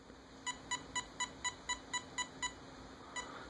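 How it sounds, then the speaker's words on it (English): A Castle Creations electronic speed controller being programmed emits a series of about nine evenly spaced short electronic beeps, followed after a pause by one more, faint and close in a quiet room. "you will not hear these beeps"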